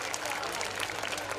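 Audience applause at the Dohela Mahotsav folk music festival in Khurai, a steady wash of many hands clapping at a distance, fairly faint and continuous throughout.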